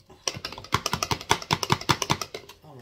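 Plastic bottle of homemade floor cleaner shaken to mix, a quick rapid series of close sloshing rattles lasting a couple of seconds.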